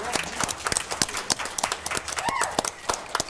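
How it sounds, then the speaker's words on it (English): A youth government day crowd gives a round of applause, with many hands clapping in a busy, uneven patter, some sharp claps standing out close by and a brief whistle partway through. "I would like everybody to give themselves a round of applause"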